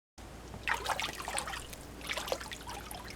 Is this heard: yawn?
no